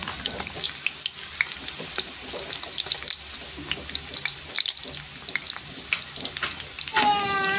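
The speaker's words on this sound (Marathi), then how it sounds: "कांदा चांगला तेलामध्ये शिजवून घ्यायचा." Chopped onion frying in oil in a pan over a low-to-medium gas flame, giving a steady crackling sizzle with scattered pops, and a brief clatter near the end.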